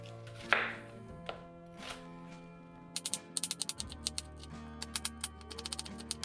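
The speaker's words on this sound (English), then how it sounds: "we have to cut up our garlic and shallots" A knife chops garlic cloves and shallots on a board, a few scattered cuts followed by a quick run of crisp, rapid taps, close and fairly quiet over faint background music.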